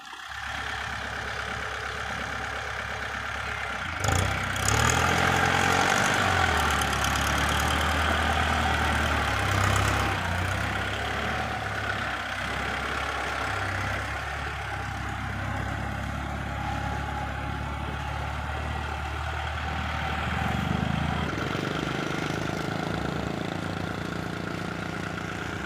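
A heavy tractor diesel engine with a rotary tiller rumbles steadily at idle, close and continuous, with a brief rev and some mechanical clatter early on.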